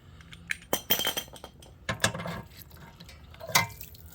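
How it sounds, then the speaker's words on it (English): Water draining out of a water heater in a garage, heard as irregular splashing and trickling with scattered metallic clinks and knocks, close and fairly quiet, with no voices. "There's actually quite a bit of water coming out of this."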